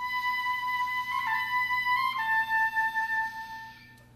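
An oboe plays a short turn ornament, stepping around a main note before settling, reedy, clear and close, then fading out.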